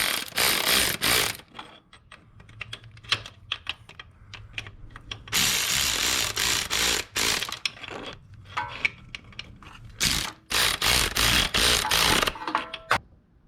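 A ratchet tightens bolts on the bottom end of a Ford Focus engine being rebuilt, sounding as loud, close bursts of rapid clicking separated by short pauses and quieter handling noises.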